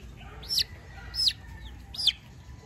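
Sick young chicks with fowlpox give three brief high-pitched calls spaced about evenly apart, heard close and fairly faint over a low background hum, with no talking.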